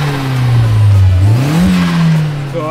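A rear-wheel-drive Japanese car's engine revs hard, its pitch climbing and dipping and then rising again in one continuous loud roar, heard close up.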